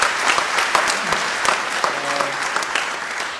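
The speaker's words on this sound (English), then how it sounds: "please give these wonderful people the applause they deserve" A theatre audience applauds the cast after a performance of the play Fractures, with full, even clapping from a large crowd and a brief vocal cheer rising partway through.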